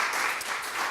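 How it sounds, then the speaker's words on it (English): Audience applause for honored guests at an academic event, a steady dense wash of clapping filling the whole moment with no voices on top. "So if we can please just a round of applause for Veronica and"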